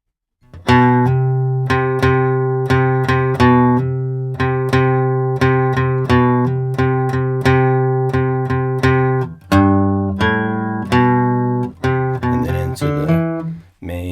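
Flatpicked acoustic guitar plays a steady strummed bluegrass rhythm pattern of repeated chords, bright and close, with a few quicker plucked notes near the end.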